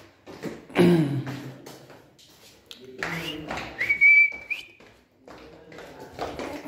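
A person gives a couple of short whistles to call a street dog to food, one a sustained rising note, amid quiet background voices and faint movement.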